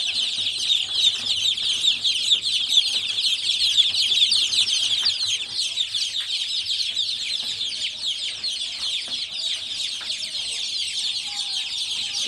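Many young poultry chicks, including Brahma birds, on a poultry farm, chirping constantly in a dense high-pitched chorus with occasional clucks, steady and close throughout.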